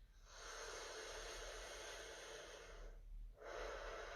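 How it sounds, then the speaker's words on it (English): A person takes slow, deep breaths during a vocal warm-up, a long airy inhale, a brief pause, then another breath, soft and close with no speech. "take a deep breath in. And then a deep breath out."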